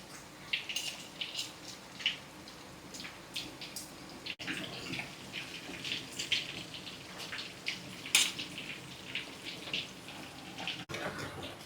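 Cassava pieces fry in oil over a medium flame, a quiet, steady sizzle with frequent small pops and crackles scattered irregularly throughout.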